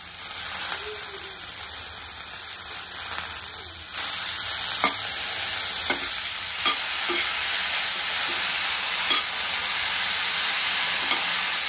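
A coriander mixture is stirred in a hot pan, giving a steady broadband sizzle with repeated scraping strokes of a spoon at irregular intervals, close and continuous throughout without speech.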